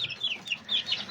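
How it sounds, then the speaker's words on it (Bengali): Fancy-breed chickens hatched from breeder eggs clucking close by in a short run of soft, repeated calls with no talking. "এগুলো সব ফেন্সি মুরগির আইটেম।"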